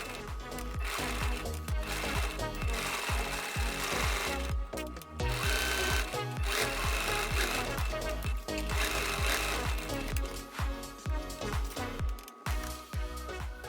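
A sewing machine rattles through a webbing loop on a mini bag, running in a fast, steady mechanical stitching rhythm with only short pauses, close and continuous.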